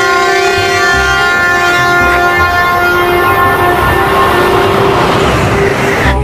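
A toy high-speed train plays a loud, steady electronic train sound with a sustained horn-like tone alone, continuous and unbroken throughout.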